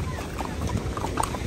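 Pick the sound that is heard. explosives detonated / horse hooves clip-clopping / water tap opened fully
horse hooves clip-clopping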